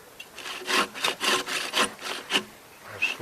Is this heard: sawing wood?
yes